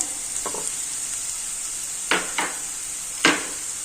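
Carrot, cabbage, capsicum, green garlic and spring onion sauté in a hot pan for Manchow soup, with a steady close sizzle broken by a few sharp scrapes and knocks of stirring.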